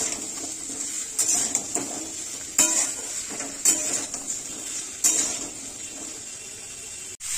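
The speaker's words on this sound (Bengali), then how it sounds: "এইভাবে একটু নাড়াচাড়া করে নিতে হবে।" Mixed vegetables in a pan for a Bengali-style vegetarian dish are stirred with a utensil, giving a few distinct scraping clinks spaced a second or so apart over a steady low kitchen hum.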